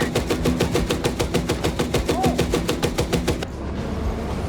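.50 cal machine gun firing from an M60A3 tank in Gunner Heat PC, a loud, rapid, steady burst of shots lasting about three and a half seconds before cutting off into engine rumble.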